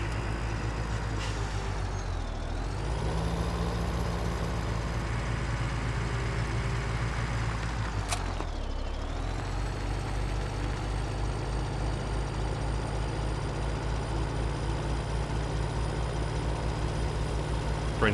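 Tractor pulling a trailer in Farming Simulator 17, a steady low engine drone with a whining higher tone that dips and swells twice as the revs change, then holds constant and close.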